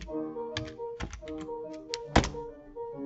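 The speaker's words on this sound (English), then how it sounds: "I am in there and I can type now" Computer keyboard typing during spreadsheet data entry: a scattered run of close key clicks and thunks, one sharper strike near the end, over a steady tonal background hum.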